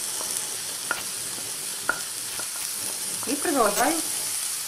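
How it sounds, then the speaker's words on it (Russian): Cucumbers fry in a pan, making a low steady sizzle with a few light scraping taps from stirring while someone speaks briefly over it. "обжаривать. Добавляю огурцы"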